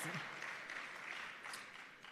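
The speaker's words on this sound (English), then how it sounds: "Yes, it deserves a round of applause." Applause from the audience at a rebranding and quality recognition ceremony: soft, distant clapping from a crowd, steady and faint throughout.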